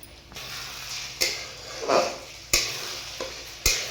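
Beaten eggs frying with onion in a pan: a constant sizzle broken by several sharp, evenly spaced clacks and scrapes of a spatula stirring, close by, with no voices.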